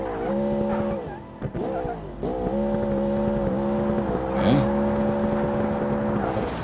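Supercar in the BeamNG driving game braking hard into a sharp turn on a track, its engine tone holding steady then dipping as tires squeal, loud and continuous throughout.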